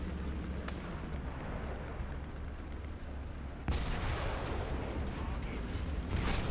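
A Type 74 tank's main gun firing in War Thunder, two sharp heavy booms a few seconds apart over a constant loud engine rumble.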